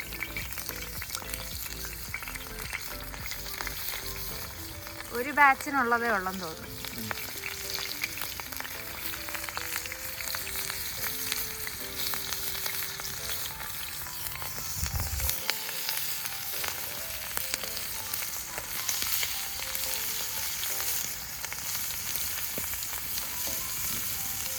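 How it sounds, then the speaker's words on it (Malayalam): Green mussels (kallumakkaya) sizzle and crackle in hot oil over an outdoor cooking fire, a loud continuous fry with stirring and scraping; a person speaks briefly over it. "നമ്മുടെ ഓയില് ചൂടായിട്ടുണ്ട്. നമുക്ക് നമ്മുടെ കല്ലുമ്മക്കായ പതുക്കെ ആഡ് ചെയ്യാം."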